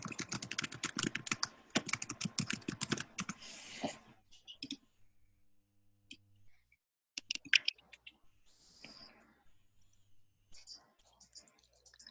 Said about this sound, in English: while I hear you typing like that